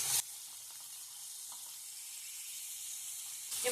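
Flipped katla fish pieces frying in hot oil in a pan, a soft, even sizzle with faint crackles, louder bursts at the start and end.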